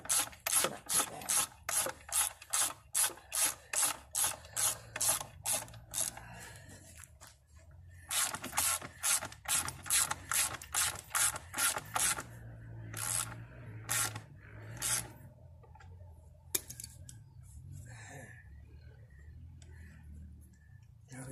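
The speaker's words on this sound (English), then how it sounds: "I'm just screwing this sucker on here by hand." Rhythmic rasping, scraping strokes repeat in quick bursts, pausing and resuming, like a solar panel mounting arm being screwed on by hand, with faint talk beneath.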